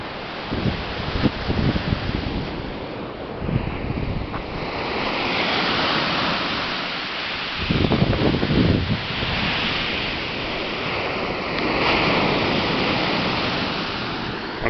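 Waves wash in on a lake beach in Kenosha, a rolling, swelling surf that rises and falls in long surges, mixed with gusty wind rumbling on the microphone, with no talking.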